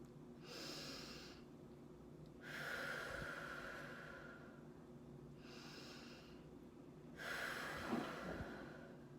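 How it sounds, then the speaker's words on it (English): Two long, deep breaths drawn in together and let out, each a broad airy rush lasting a couple of seconds with a quieter pause between, close and clear, with no talking. "I want to start by taking 2 really deep breaths in together"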